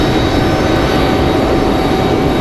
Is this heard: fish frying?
no